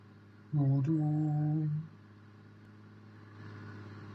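A BMW in Roblox accelerating, a short buzzing engine tone that starts abruptly, holds about a second with stepped harmonics, then cuts off, leaving faint background hum.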